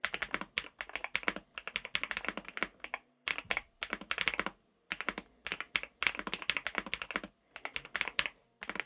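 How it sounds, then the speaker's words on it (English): Fast, close-up typing on an Epomaker TH80 Pro V2 mechanical keyboard with Wisteria switches: bursts of crisp key clicks separated by brief pauses. "the typing experience on these Wisteria switches is absolutely brilliant. Just listen to this."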